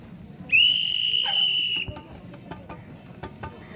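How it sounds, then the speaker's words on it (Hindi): A single sharp, shrill whistle blast rings out for just over a second during a street play at a college festival, followed by a few faint clicks and light background noise. "ये छोटका बजाएगा सीटी"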